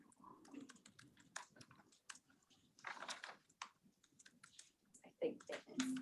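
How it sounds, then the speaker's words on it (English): Someone taps a computer keyboard in a quiet room during a hearing, fairly faint, irregular bursts of key clicks scattered across several seconds. "there's somebody tapping a keyboard that it's very loud"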